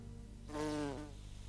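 A mason bee gives a short buzzing drone close by in a garden, lasting about half a second against quiet surroundings.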